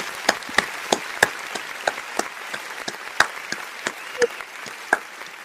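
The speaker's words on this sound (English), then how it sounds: "So I think those guys, Teran, deserve just a small round of applause" Sparse applause for Hall of Fame inductees on a post-Super Bowl XL sports talk show, a handful of distinct claps scattered loosely over a light background, with no voices on top.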